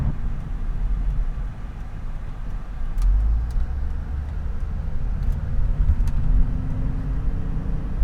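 A salvage-rebuilt car that has been crashed, heard from inside while driving: a steady low road and engine rumble, a rising whine near the end and a few faint clicks, with no talking.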